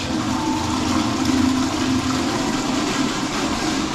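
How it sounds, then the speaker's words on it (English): An automatic toilet in a public restroom in an Australian outback town flushes, a steady rushing of water that holds close and even throughout, with no speech. "Auto flush."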